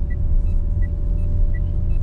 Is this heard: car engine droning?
yes